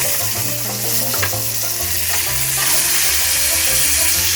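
Food sizzles steadily in a hot pan while it is flipped with a spatula, a constant close hiss with soft scraping and faint music underneath.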